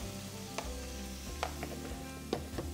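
Paneer frying in a pan with red chilli paste and chilli powder, a steady close sizzle with a few sharp clicks of stirring.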